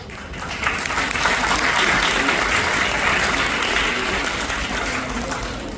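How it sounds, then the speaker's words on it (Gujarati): Sustained applause fills the whole stretch, a dense, even patter of clapping that sounds more like a crowd than just two people. "તાળીઓ બે જણ પાડે"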